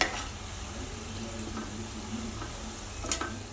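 Cauliflower pieces fry in oil and get stirred a few times, a soft steady sizzle with occasional scrapes and taps of the utensil against the pan, quiet and close, no speech.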